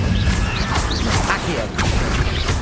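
Incendio fire spell cast in Hogwarts Legacy, a dense, loud burst of whooshing, crackling magical fire with repeated swishing surges across a few seconds.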